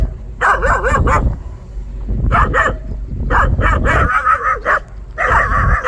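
Several dogs bark at another dog in bursts of loud, close yapping and yipping, with whimpers between the volleys and short pauses that break up the barking.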